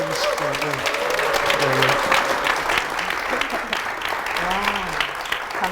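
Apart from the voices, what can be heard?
church congregation applauding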